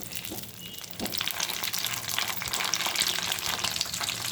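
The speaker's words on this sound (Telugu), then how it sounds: "సిమ్లో పెట్టుకొని మంచిగా వేయించుకోండి" Tomato and mint sizzle in a pan over low heat while making tomato mint chutney, a steady crackling fry that grows louder partway through, with occasional stirring scrapes.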